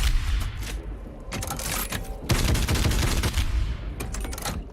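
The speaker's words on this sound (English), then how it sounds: "With the sort of Gatling shotgun" A Gatling shotgun firing in Doom Eternal, loud rapid bursts of repeated blasts with short mechanical pauses between volleys, close and dense with no talking.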